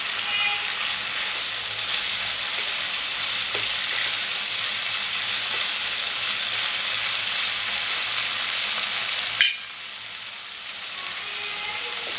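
Noodles frying in a pan while being stirred and mixed, a continuous close sizzle with occasional scraping taps, then a sudden clatter and a drop to quieter sizzling.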